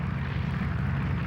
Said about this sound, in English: Pezzi flew his airplane until it would climb no more